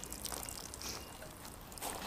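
Water tipped onto paste-waxed car paint runs off in a soft, steady trickling pour lasting about two seconds, fairly faint and with no talking.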